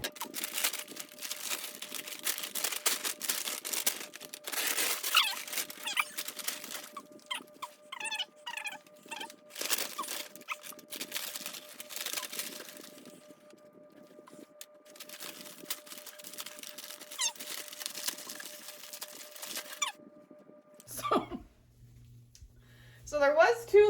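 Crinkly plastic and paper packaging rustles and crumples in bursts as a mail-ordered Philodendron Dean McDowell houseplant is unpacked, close and fairly loud, with a voice speaking at times.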